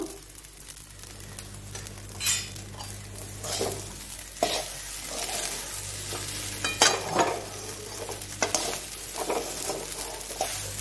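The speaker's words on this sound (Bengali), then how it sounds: "এখানে কতগুলো সবজি কেটে রেখেছি, এগুলো ভাজা করব" Vegetables sizzle steadily in a hot pan, with repeated scraping stirs cutting through the hiss every second or two. No one speaks.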